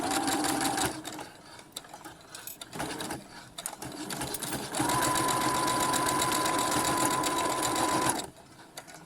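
Sewing machine stitching the drawstring casing of a fabric mask, a close, rapid mechanical chatter in steady runs broken by short pauses, with the longest continuous burst near the end.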